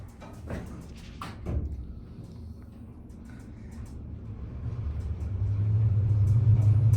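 A modernized 1983 Otis traction elevator car travels through its shaft at the DoubleTree Center City in Philadelphia, a low rumbling hum that swells steadily as it moves, with a few faint knocks early on and no talking.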